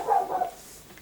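A dog barks and whimpers indoors in a short, fairly loud burst that fades, with no talking over it.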